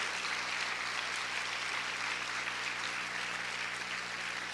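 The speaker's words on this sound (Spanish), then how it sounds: "Vamos a aplaudir más fuerte a nuestro Dios y a nuestro Señor." A church congregation applauds God during a sermon, with a continuous, even wash of clapping heard at a distance and fairly faint, with a steady hum beneath it.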